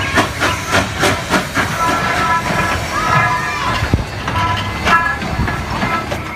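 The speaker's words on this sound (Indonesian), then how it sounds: "Lihat teman-teman, ternyata kereta api Thomas." A blue Thomas toy train plays noises close by: a hissing steam-like chuff with short whistle tones, rattling along steadily, while a voice talks over it.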